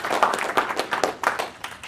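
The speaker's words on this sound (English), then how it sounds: "So we can do a little applause" A small audience at a Linux user group talk gives a brief round of applause. Scattered claps sound close and moderately loud for a couple of seconds.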